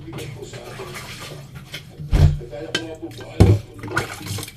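Water splashes and pours in a couple of gurgling bursts over a running background while washing dishes, with dishes lightly knocking nearby.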